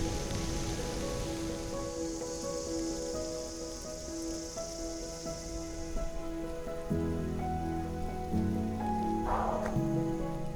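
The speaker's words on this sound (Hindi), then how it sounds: "लेकिन बारिश शुरू हो गई" Steady rain falling during a damp monsoon-season trek near Shogran, Pakistan, a continuous hiss that runs throughout with a brighter burst near the end.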